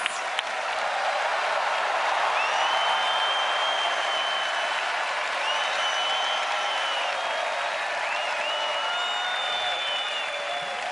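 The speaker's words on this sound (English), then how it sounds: "let's give a big round of applause to all of tonight's performers" Sustained applause from a large arena audience at the Eurovision Song Contest 2014 Grand Final in Copenhagen, a dense steady wash of clapping and crowd noise holding loud and even throughout, with faint tonal sounds drifting above.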